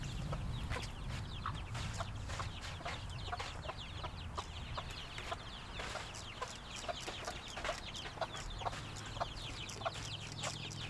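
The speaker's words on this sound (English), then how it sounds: "my assistant here, Zoe, is going to attempt to get the bird." Chickens cluck and squawk close by while being caught, a dense, continuous run of sharp, overlapping calls with a low background rumble throughout.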